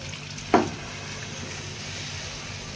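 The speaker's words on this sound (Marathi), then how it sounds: "मी यामध्ये चिकन ट्रान्सफर करते बघा आणि हे पाणी देखील" Chicken and its liquid go into a pan of spiced masala, one brief splash and thud followed by a soft steady sizzle close by.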